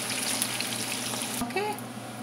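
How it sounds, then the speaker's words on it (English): Tofu pieces fry in hot oil with a steady, dense sizzle throughout, close and continuous, with a brief clink and stir sound partway through. "When you take a soft one, it breaks off when you're frying."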